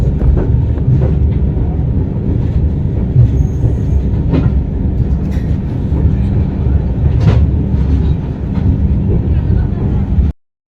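Train at Ratnagiri station on the Konkan route rolling in, steady loud rumble of railcars with faint rail clatter and brief squeals throughout, ending abruptly.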